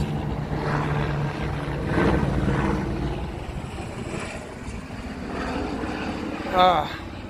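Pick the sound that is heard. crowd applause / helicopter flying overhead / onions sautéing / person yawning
helicopter flying overhead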